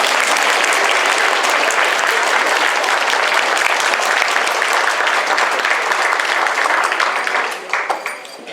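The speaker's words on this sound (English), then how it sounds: "And let's give these students a round of applause." An elementary school audience at an end-of-year awards ceremony applauds first and second grade students, loud, dense clapping sustained for about eight seconds before thinning out at the end.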